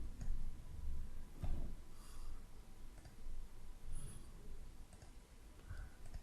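Quiet computer mouse clicks while working in Lightworks video editing software: a few faint, isolated clicks spaced a second or two apart against a soft room hiss, with no talk.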